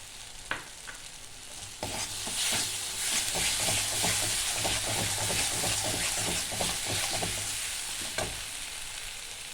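Split green chillies sizzle and crackle loudly in hot oil alongside puti fish being fried and stirred in a pan, with steady hiss and scraping stirs throughout, no voices.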